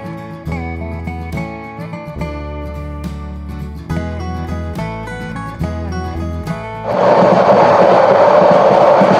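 Subarna Express train on the Chattogram to Dhaka run: a stretch of tonal background music gives way to a loud, steady, close rumble of the moving train in the final seconds.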